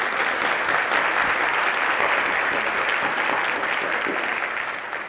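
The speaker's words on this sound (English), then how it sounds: "it is okay to give them a round of applause" Sustained applause from a sizable crowd at an awards luncheon in Fort Worth, dense and steady clapping throughout, tapering slightly at the end.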